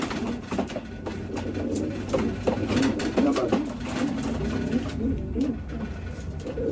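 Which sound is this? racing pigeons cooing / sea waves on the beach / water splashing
racing pigeons cooing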